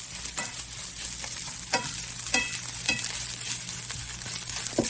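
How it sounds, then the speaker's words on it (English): Garlic stirred back into warmed rice in a pan, with a steady sizzle and a few soft scraping strokes of a utensil at a moderate distance, alone without talk. "I'm just gonna throw the garlic back in here. And now we're just gonna mix all that back together."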